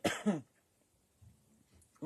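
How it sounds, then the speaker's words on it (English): A single short, close throat-clearing cough from a woman at the end of a sewing tutorial on a zipped concertina pouch, followed by quiet room tone and a faint breath. "When I start to cough, that's because I've been talking too much."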